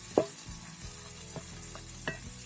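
In a quiet kitchen, a spatula stirs pav bhaji masala with a little added water in a pan, giving a soft, low sizzle broken by a few sharp scrapes and clicks against the metal.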